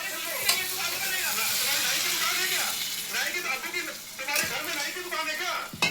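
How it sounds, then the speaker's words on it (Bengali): Water goes into a hot pan of fried egg and green chili paste, and the pan hisses and sizzles. The bursts of sizzling rise and fall under a person talking throughout. "এই যে এখন এটা জলটা দিয়ে দেবো"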